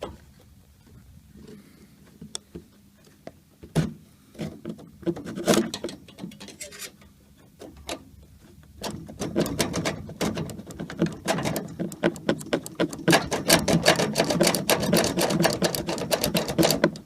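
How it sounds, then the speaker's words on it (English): A saw blade cuts through central heating pipe in a series of rapid rasping strokes that start sparse and quiet and then grow faster, louder and continuous toward the end. "get this saw blade between the pipe so that I could cut on the top of the pipe"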